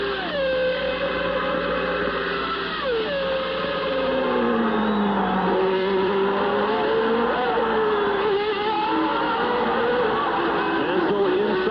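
Formula One cars at the 1990 Mexican Grand Prix, high-pitched engines screaming continuously with rising and falling pitch as cars pass, loud and steady throughout with no voices.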